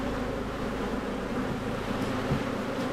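Honey bees buzz around an open hive during a hive inspection, a steady, dense hum throughout, fairly close and continuous with no voices.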